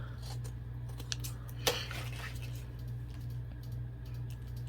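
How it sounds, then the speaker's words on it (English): Scissors snip through a flimsy paper tab at a craft table, with a few soft clicks and one sharp, close cut standing out over a steady low hum. "And I'm going to cut off that little tab."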